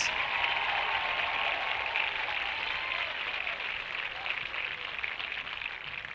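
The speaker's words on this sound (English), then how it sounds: "can we give a round of applause for all of our fall 2020 homecoming maids?" Crowd applause for the fall 2020 homecoming maids at a high school football game, a fairly faint, even wash of clapping from a distant outdoor crowd that holds steady throughout.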